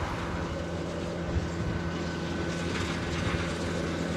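A Southwest airliner arriving from San Jose at Honolulu produces a steady, distant engine rumble and whine that holds evenly throughout without talk.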